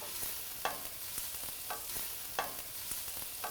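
Plum tomato sautés in a pan over onion and garlic, with a steady sizzle broken by a few rhythmic spoon strokes and scrapes, close and clear, with no talking.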